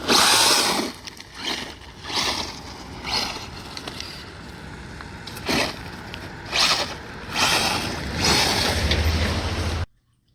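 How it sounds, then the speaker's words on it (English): A cheap Wltoys RC car with upgrades and a worn, wobbling drive shaft does a front-wheel-drive burnout, letting out repeated loud bursts of whining electric motor and scrubbing tyres before cutting off abruptly. "Oh, front wheel drive burnout."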